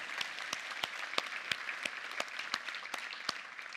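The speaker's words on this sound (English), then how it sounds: "let's give them a round of applause" At a software conference keynote, the audience offers light, sparse applause for vendor award winners, with individual claps standing out over a soft, distant patter.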